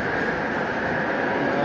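A metro train at a station in Malaysia rumbles past with a steady, loud, continuous roar and a faint high whine, close by and unbroken.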